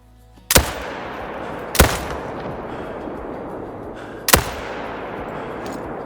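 Three loud, sharp rifle shots from a 30-06 in a wild boar hunting video game, spaced a second or more apart, each with a lingering echo tail.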